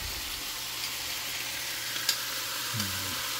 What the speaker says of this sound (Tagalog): Yung hipon, yung ulo ng hipon, sinasama niya ng sa pagigisa para lumasa.